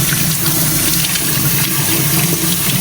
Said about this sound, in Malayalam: നല്ലോണം കഴുകി എടുക്കുകയാണ് നമ്മളെ ലിവർ